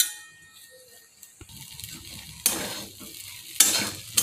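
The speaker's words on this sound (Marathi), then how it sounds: "आता या खिचडीवर थोडीशी साखर टाकू आणि मिक्स करून घेऊ" Sabudana khichdi being stirred with sugar in a pan: a low sizzle under scraping spoon strokes, with a few louder metallic clangs and scrapes against the pan, close and without talk.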